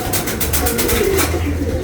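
Soft cooing and fluttering of a racing pigeon arriving at its loft close by, with a low hum and rustling in the background.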